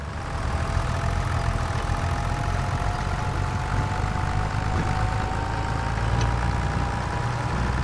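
Tractor engine in the Farming Simulator 25 video game, a steady continuous mid-to-low engine drone running evenly throughout with a faint tonal whine on top, no voices.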